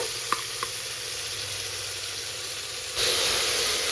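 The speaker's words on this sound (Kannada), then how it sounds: "ಇದನ್ನು 10 ನಿಮಿಷ ಲೋ ಫ್ಲೇಮಲ್ಲೇ ಇಟ್ಕೊಂಡ್ಬಿಟ್ಟು ಚೆನ್ನಾಗಿ ತಿರುಗಿಸ್ಬೇಕು" Crab soup ingredients, with onion among them, cooking in a pan on a low flame, giving a soft steady sizzle with a couple of faint stirring taps early on and a brighter hiss in the last second.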